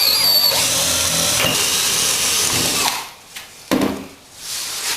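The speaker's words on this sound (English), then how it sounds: "these need to be done by a hand drill" A hand-held power drill whirs loudly and steadily up close, drilling holes for a screen-printing table, then cuts out and gives a couple of short bursts before stopping.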